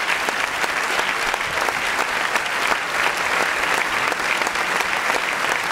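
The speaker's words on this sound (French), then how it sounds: "Sous vos applaudissements, à nouveau, ils peuvent repartir." A theatre audience at La Louvière applauds a city choir, sustained loud, dense clapping from a large crowd filling the whole stretch without pause.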